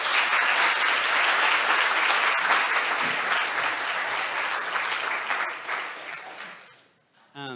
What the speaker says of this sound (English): So please give a round of applause to Vanessa.